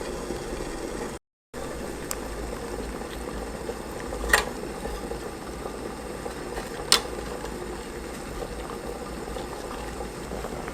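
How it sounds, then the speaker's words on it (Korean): Water boils steadily with a continuous bubbling rumble as glutinous rice dumplings cook, broken by a brief dropout and a couple of faint clinks. "팔팔 끓는 물에다가 경단을 넣어볼게요."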